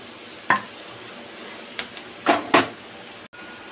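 Cooked rice tossed with vegetables in a pan, a few distinct scraping stirs of a spoon against the pan over a soft continuous hiss, close by with no talk.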